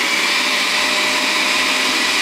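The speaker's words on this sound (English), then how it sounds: "If I were to add the blender," A kitchen blender runs at home, giving a steady, loud, continuous whirring roar with no pauses and no voices.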